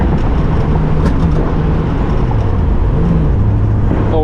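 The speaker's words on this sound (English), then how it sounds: "That's 70 mile an hour. Switching from 3rd to 4th gear." A 1966 Ford Mustang GT cruising at about 70 mph as it shifts from third to fourth gear, a loud, steady engine and road roar close by with a brief dip in pitch at the gear change.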